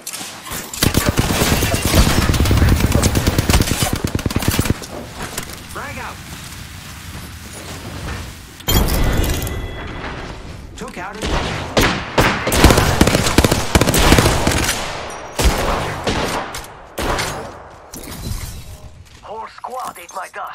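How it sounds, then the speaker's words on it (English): Dense, sustained video game gunfire fills the stretch, with bursts of automatic fire and sharp shattering impacts, loud and continuous with a brief drop in the middle, while a voice talks over the shooting. "I'm taking fire, friends."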